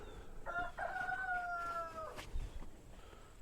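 A rooster crows once, a long drawn-out call with a rising start and a sustained middle, fairly close, followed by faint background rustling.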